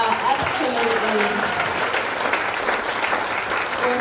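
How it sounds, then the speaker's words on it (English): An audience applauds a big band at a jazz night, with steady, dense clapping throughout, loud and continuous, and a few voices faintly mixed in. "can we just give Big Band to a round of applause?"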